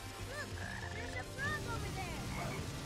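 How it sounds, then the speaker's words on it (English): Frog croaking in the Sonic Heroes video game, several short warbling calls over a steady watery ambient bed at moderate level, no talk. "Look, there's a frog over there."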